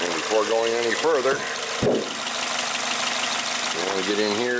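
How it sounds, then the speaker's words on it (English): A 2006 Toyota Corolla engine idles with a low, steady hum while a person talks over it, punctuated by a brief sharp knock. "Actually, I probably should shut the engine off first."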